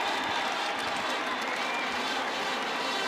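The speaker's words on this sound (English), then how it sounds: "And listen to the crowd. They're on their feet here at Humphrey Coliseum." A women's basketball crowd at Humphrey Coliseum, Mississippi State, roars during a timeout, a dense, sustained wash of cheering and clapping at moderate distance.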